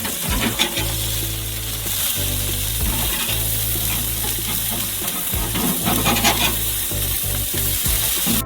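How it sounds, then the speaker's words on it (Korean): Breaded cutlet for a burger sizzling steadily in a hot pan, a dense continuous frying crackle with occasional scraping or stirring sounds, close and loud, with no talking. "커틀릿을 반대편으로 뒤집어"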